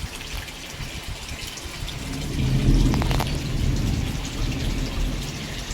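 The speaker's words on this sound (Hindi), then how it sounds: "ये देखिए बारिश मैं दिखा रही हूँ आप सबको, बारिश स्टार्ट हो गई है" Rain begins falling outside during a monsoon-season day, a steady soft hiss with scattered drops that swells a little midway, no voices present.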